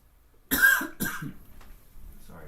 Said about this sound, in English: Sorry for the coughing.